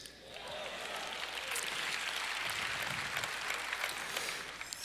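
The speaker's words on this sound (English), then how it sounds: "make sure he heard some claps and approval of that" A church congregation claps, a steady, moderately distant wash of applause sustained throughout.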